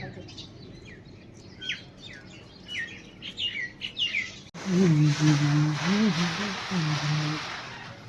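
Sparrows fed millet chirp in quick, bright bursts, many small calls tumbling together nearby, before a person's voice takes over over steady outdoor noise.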